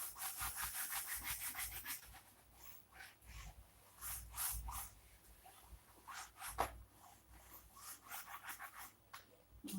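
A cloth wipes silicone off a varnished painting in a few soft, close rubbing strokes that come in irregular bursts, with no voices present.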